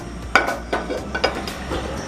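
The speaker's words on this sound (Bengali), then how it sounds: "কড়াইটা বসিয়ে নিলাম।" A wok set down on a gas stove, several close metallic knocks and clunks spaced irregularly over a quiet background.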